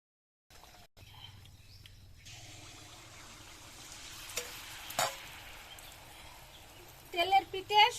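Tele pitha rice cakes fry in hot oil in a village kitchen, a quiet, steady sizzle and bubbling with a few stirring clatters and louder splashes near the end.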